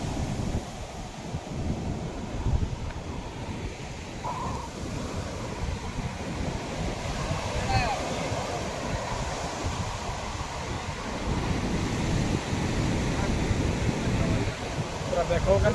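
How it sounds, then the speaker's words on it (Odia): Sea waves wash onto the shore in a continuous broadband roar, with wind noise on the microphone and voices talking faintly over it. "କେମିତି ଢେଉ ମାରୁଛି ଦେଖ"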